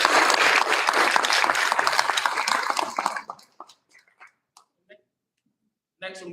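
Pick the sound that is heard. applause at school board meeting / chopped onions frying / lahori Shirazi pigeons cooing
applause at school board meeting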